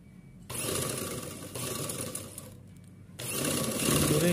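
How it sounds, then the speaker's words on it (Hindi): A sewing machine stitches the hem of a gown, running in steady loud bursts with a short pause partway, close up and with no talking. "घेरे में ऐसे सिलाई मार लेना है"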